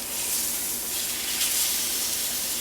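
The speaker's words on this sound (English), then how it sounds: "it really picks up a nice sizzle there" A ribeye steak sears in a hot cast iron pan, giving a steady, close sizzle with bright hiss that stays even for the whole stretch, with no talking.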